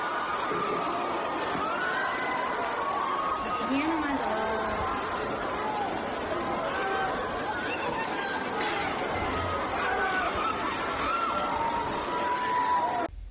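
Crowds of university students in a Guangzhou dormitory building shout, yell and whoop loudly and continuously, many voices overlapping into a dense roar of chatter.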